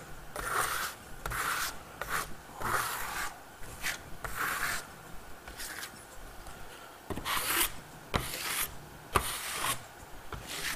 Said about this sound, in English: I got my trowel and my pearlescent wax. Let's put it on.